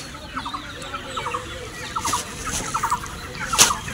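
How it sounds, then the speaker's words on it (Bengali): Young chickens on a crowded poultry farm cluck in short, repeated bursts at night while being herded into a sack, with scattered rustling and a sharp squawk near the end. "বস্তায় করে তাড়াচ্ছি মুরগিগুলোকে"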